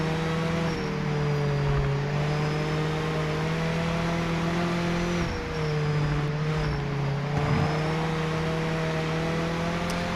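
A race car in Project Motor Racing drones past with a sustained engine note that dips and rises through gear changes. The sound stays steady and close, and no one speaks.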